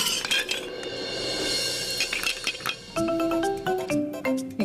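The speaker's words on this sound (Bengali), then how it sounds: "এর মধ্যে এরকম ঠুংঠাং করে কিসের শব্দ?" Utensils clink and clatter in a home kitchen while two cups of water and one cup of rice are set out, a busy jangle of metal on metal and ringing taps that grows into bright tonal chimes near the end.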